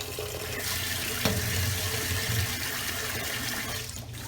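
Tap water runs steadily into a pot of rice being rinsed and drained, a continuous close splashing rush with a brief clunk partway through and no talking.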